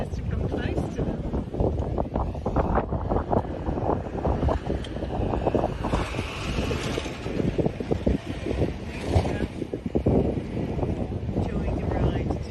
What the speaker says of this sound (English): Here it's pretty windy now.